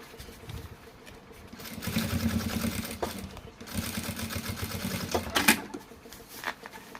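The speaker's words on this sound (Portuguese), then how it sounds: "aqui também jogo pro lado e vou fazer a costurinha de segurança" A sewing machine stitches a safety seam along a fabric bag, running in steady bursts of rapid mechanical stitching with brief pauses and a sharp clack near the end, close and fairly loud.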